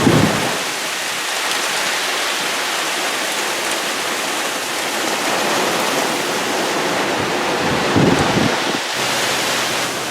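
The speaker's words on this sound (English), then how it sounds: "Some bigger gusts starting to appear now." Hurricane Irma wind in Florida roars over heavy rain and water pouring off a house, a loud, constant wash with a few stronger gusts swelling near the start and end.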